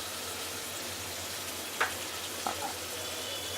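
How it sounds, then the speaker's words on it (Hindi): Chicken manchurian pieces frying in hot oil on a high flame, a steady close sizzle with a couple of brief clinks of a utensil, no speech. "अभी फ्लेम मैं तेज़ करके फिर से एक बार फ्राई कर ले रही हूँ।"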